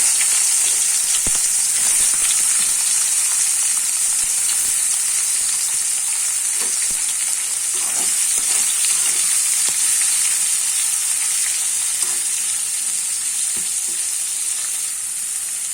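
Onions fry in hot oil together with dried fish, a steady loud sizzle running on without pause and with faint stirring scrapes, no voices.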